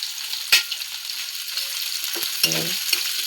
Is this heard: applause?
no